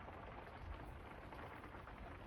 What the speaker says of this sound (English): You can probably hear the rain on the roof